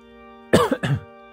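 A single person's cough or throat clear, sounding as two short close bursts with a faint steady hum behind, during a Shadowverse card game session.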